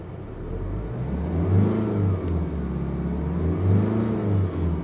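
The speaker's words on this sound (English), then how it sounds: "try listening to the engine. I'm just going to tap the accelerator pedal." The diesel engine of a 2020 Tata Altroz, stationary and close, is revved repeatedly in several rising and falling swells over a steady idle rumble, turning boomy around 2500 RPM.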